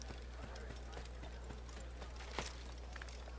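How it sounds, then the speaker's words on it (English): Horse hooves clip-clopping in Assassin's Creed, a quiet, steady run of light hoof taps at walking pace over a low constant hum, with faint game ambience and some talk in the background. "What I actually need is a horse, which is right there"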